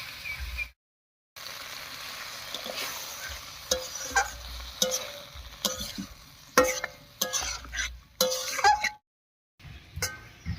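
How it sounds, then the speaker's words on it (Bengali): Ground spice paste sautéed with water for a winter vegetable sabzi, with close sizzling and repeated clinks and scrapes of a spoon against the pan, separated by short silent gaps. "এবারে মশলা বাটা জল দিয়ে কষিয়ে নেব"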